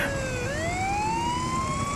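A police motorcycle siren wails steadily on a lone roadside, its rising tone sweeping upward and holding loud and close over a constant engine rumble.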